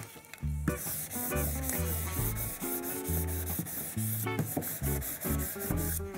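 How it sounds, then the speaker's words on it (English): A scraper rubs firmly back and forth over vinyl sticker transfer tape, producing a series of short, close scraping strokes in quick succession. "So I will scrape it a couple of times this way and this way."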